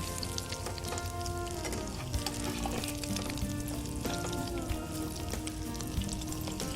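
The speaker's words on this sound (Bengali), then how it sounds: "এরকম লাল লাল করে ভেজে তুলবো।" Omelette pakora deep frying in hot oil, a dense continuous sizzle with crackling pops and bubbling that holds steady and close the whole time, with faint utensil clinks.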